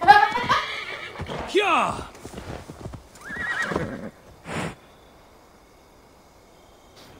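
A horse in Assassin's Creed Valhalla neighs and whinnies loudly amid clip-clopping hooves and people talking, then the sounds stop, leaving near silence at the end.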